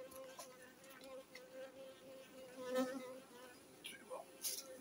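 Honeybees swarm around an opened hive during a colony check a month after honey extraction, a faint, steady buzzing hum with individual bees zipping closer now and then.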